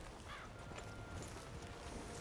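A horse's hooves clip-clop softly in Red Dead Redemption 2 in the frontier town of Strawberry. The steady plodding sits under ambient town noise, faint and fairly close, with no talking.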